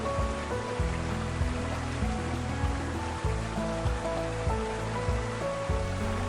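Russell Falls in Mount Field National Park, Tasmania, pours in a dense, constant wash of rushing water. The roar stays loud and unbroken, with faint background music running underneath.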